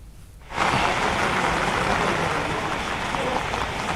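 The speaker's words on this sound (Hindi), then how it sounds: "और फिलहाल वहां पर बारिश शुरू हो चुकी है" Rain pouring at an outdoor news reporting location in Rajasthan: after a quieter first half-second, a dense, loud, steady hiss of falling rain fills the scene, with no speech.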